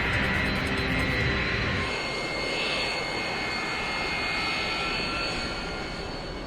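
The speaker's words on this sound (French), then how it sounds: "Le Cessna doit maintenant traverser la piste pour se rendre au parking." A Cessna light aircraft taxiing across an active runway toward parking, heard as a loud, steady engine drone that holds throughout with a faint high whine.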